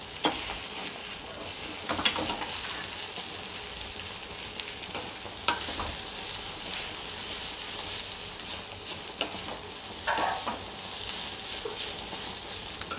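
Raw plantain podimas being mixed in a hot pan, a steady close sizzle with repeated scraping and tapping strokes of a spatula every few seconds, no voices.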